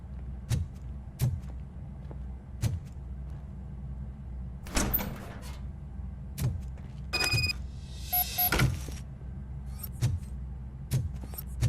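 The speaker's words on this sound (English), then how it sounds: "Now let me get that door open for you." A door in the video game RoboCop Rogue City opens with a mechanical whir and a sliding rush, set among scattered clicks and clanks over a low ambient hum.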